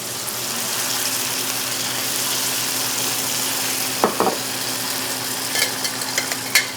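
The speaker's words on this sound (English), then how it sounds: "We're going to let that wine just evaporate a little bit on high heat" Albarino wine from Galicia sizzles hard over high heat in a pan of paella rice, a steady loud hiss throughout, with a few sharp clinks of a utensil stirring near the end.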